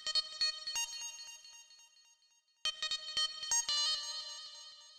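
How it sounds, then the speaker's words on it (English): A bright, plucky synth lead plays a Nokia ringtone-style arpeggio in a hyperpop beat, crisp staccato notes in two phrases separated by a short gap, clean and alone with no voices. "on this lead that I have called the Nokia lead"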